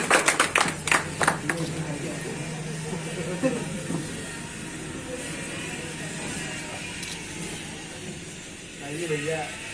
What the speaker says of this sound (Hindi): बजा दीजिए भाई ताली।